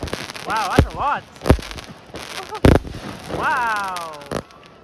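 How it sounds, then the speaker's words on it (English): Loud fireworks booming and crackling at a Victoria Day display in Linus Park, North York, Toronto, with several sharp bursts spread across the clip as excited voices exclaim in between. "Those are very loud fireworks."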